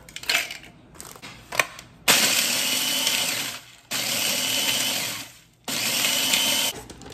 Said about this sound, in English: you're just gonna put them in your food processor